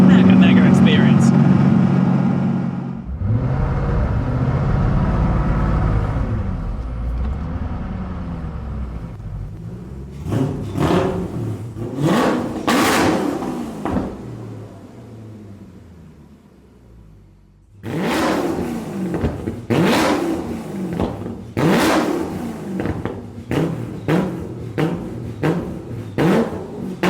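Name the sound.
Koenigsegg CCX supercar engine and exhaust while driving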